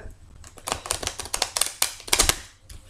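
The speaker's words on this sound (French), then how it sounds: "je vais donc battre les cartes" A deck of tarot cards being shuffled by hand, close up: quick bursts of crisp clicking and fluttering card edges in irregular rhythm, alone with no talk.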